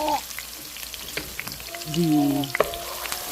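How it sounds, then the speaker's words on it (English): Chopped onions frying in oil in a pan for a pumpkin sauce, a soft steady sizzle with brief clinks and scrapes of stirring, close by. "you just leave these onions to fry until it's brown a little bit"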